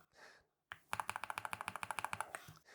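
Rapid run of about twenty crisp, evenly spaced key presses on a NuPhy Gem80 mechanical keyboard, close and clear, after a brief faint lead-in and a short silence.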